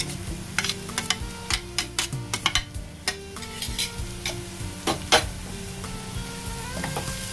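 Ginger and green chilies hit hot oil with lightly fried onion in a pan, giving a steady sizzle broken by frequent sharp clinks and scrapes of a stirring spoon, close and fairly loud with no talking.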